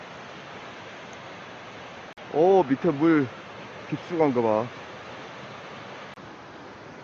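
Yongchu Falls, a waterfall in Hamyang, gives a steady, broad rushing hiss that carries on without a break. Someone speaks briefly over it in the middle.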